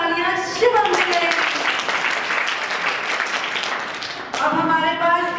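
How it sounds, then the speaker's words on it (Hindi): Audience applause for a contestant at a school talent hunt contest, a sustained burst of clapping between stretches of an announcer's voice at the start and end. "एक बार और जोरदार तालियां शिवम के लिए"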